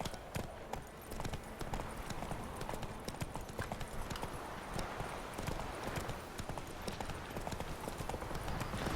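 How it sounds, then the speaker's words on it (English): Horse hooves clip-clop at a steady galloping rhythm in the video game The Witcher 3, close and continuous under a faint bed of game ambience, with no talk. "I like the horse riding here."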